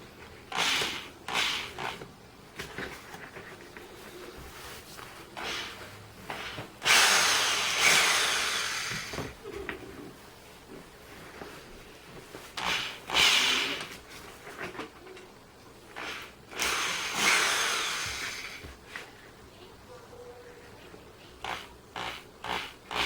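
A drill boring several holes, likely into a plastic paint tray, gives bursts of broadband whirring that come and go over steady quiet background noise, with shorter rasping pulses between them.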